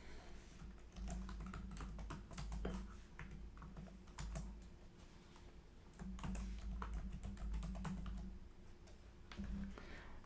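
Fingers type a roster title on a computer keyboard in soft, quick runs of key clicks over a low background hum, close but faint, with no speech.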